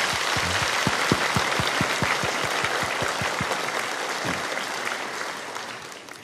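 A church congregation at a Sunday worship service applauds steadily, the crowd noise carrying a run of sharp, evenly spaced low thumps for a few seconds before tapering off gradually.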